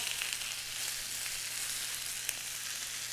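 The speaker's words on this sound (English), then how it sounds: "I'm going to let these saute up for just a few seconds. I can't help but shake the pan" Mushrooms sauteing in a hot pan for chicken cacciatore give off a steady, close, airy sizzle that holds even throughout, with one brief sharper crackle near the end.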